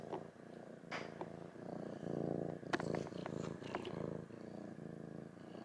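A cat purrs steadily up close, a low rumbling purr that swells and fades with each breath and continues throughout, with a few faint clicks and no talking.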